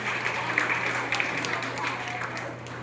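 An audience at a motivational business seminar claps in a short burst of applause, moderately loud and continuous over a steady background hum.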